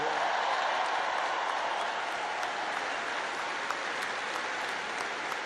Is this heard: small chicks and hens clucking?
no